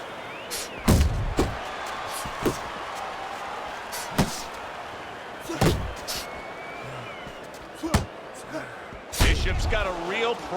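Punches land with sharp, heavy thuds in the boxing video game Fight Night Champion, a dozen irregular impacts spread over steady crowd noise, with a commentator talking between blows.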